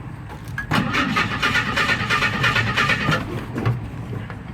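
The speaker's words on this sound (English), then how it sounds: "I'm just gonna turn the key and we'll see what happens" An old off-road postal Jeep engine cranks as the key is turned, giving a steady rhythmic churning whir for several seconds, near and fairly loud, without catching.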